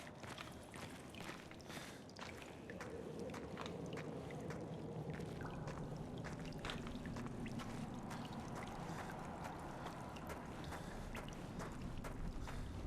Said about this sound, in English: Hear the drips.